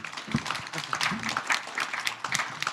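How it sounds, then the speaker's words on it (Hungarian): An audience at a panel discussion evening gives a burst of moderately loud, dense applause that carries on steadily, with faint voices mixed in beneath the clapping. "Ez megért egy tapsot szerintem mindenképpen"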